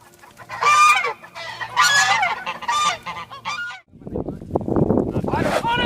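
Geese honk loudly and repeatedly at close range, a series of harsh, nasal calls in quick bursts, followed by a noisier scuffle of overlapping squawks.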